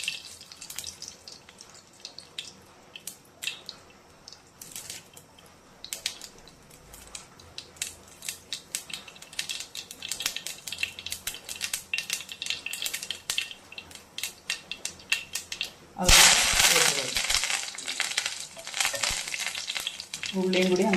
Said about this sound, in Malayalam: കടുകിടുന്നു